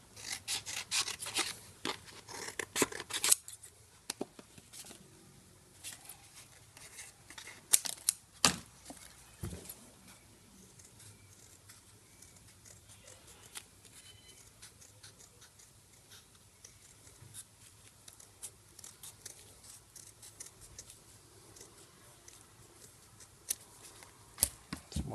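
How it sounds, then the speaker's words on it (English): Scissors cut out circles from seal material while repairing a leaking Subaru power steering cap seal, giving close, irregular snipping and rubbing sounds, dense at first and sparser later. "Now we just cut our circles with a pair of scissors."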